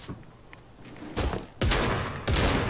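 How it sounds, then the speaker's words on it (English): Bursts of MK7 assault rifle fire ring out in Fortnite, a short burst followed by two longer loud volleys of rapid, close automatic shots. "this MK7 assault rifle is like the combat AR, like the way how it's like the fire rate"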